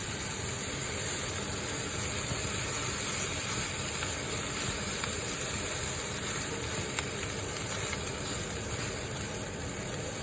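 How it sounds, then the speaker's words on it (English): Homemade fried rice stirred in a hot pan, a steady loud sizzle and hiss running throughout, with faint scraping from the stirring. "Now, I'm just gonna stir it."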